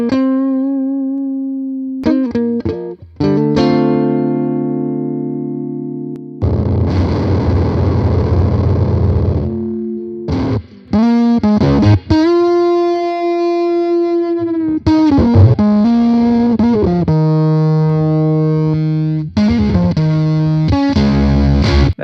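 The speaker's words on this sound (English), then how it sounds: "It sounds like an octave and like a fuzz kind of thing." Guitar through a Fender Blender octave fuzz pedal in AmpliTube 5 software, playing loud sustained notes and chords with a thick, buzzing distorted tone, separated by short pauses and one long gritty chord.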